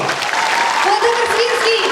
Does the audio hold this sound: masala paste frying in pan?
no